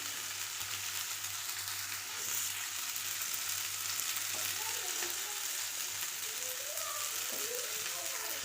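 Pasta frying in a hot pan, a steady loud sizzle with stirring scrapes throughout, over a low constant hum and a voice faintly in the background.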